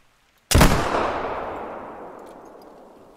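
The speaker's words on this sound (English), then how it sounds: "this is what TK is just about to fire at this moose with the mini ball" A muzzle loader fires a minie ball at a moose in a video game: one loud, sharp blast followed by a long, rolling echo that fades slowly over about three seconds.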